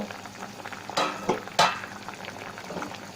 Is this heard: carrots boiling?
yes